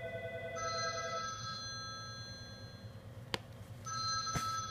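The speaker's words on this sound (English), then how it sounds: "Sorry about the phone ringing, it tends to ring off the hook here." A telephone rings indoors in a series of bright electronic ring bursts separated by short pauses, moderately loud and close, with no talking.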